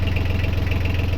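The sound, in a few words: boat engine running with engine cover on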